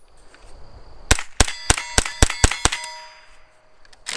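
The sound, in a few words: CMMG 22LR conversion kit rifle bolt locking back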